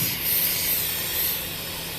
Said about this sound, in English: I'm gonna go spray paint the door and be done with this.